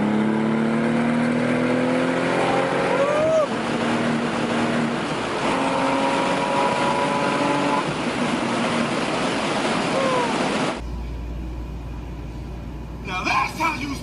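A 2001 Porsche 911 Turbo pulls hard under full throttle, a loud sustained engine roar with rising pitch sweeps through gear changes, then drops abruptly to a quieter cabin hum near the end, with voices talking over it.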